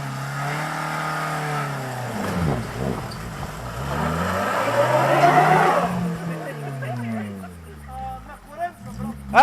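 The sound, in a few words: car engine revving with tires skidding on a meadow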